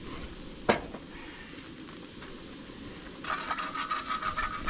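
Gnocchi fry in oil in a pan at a campsite: one sharp metallic clink, then a soft steady sizzle that grows louder and crackly toward the end.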